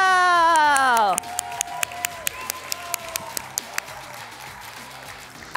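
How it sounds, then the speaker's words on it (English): Audience claps for a judge at a talent show finale held on a military base, starting with a loud tonal swell that breaks off, then a trickle of separate, fairly sparse claps spread over several seconds. "please give a huge round of applause for our Colonel Timothy Maxwell"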